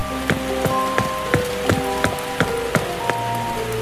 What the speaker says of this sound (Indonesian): Hujan ini lebat banget, dan air hujan ini sangat dingin sekali.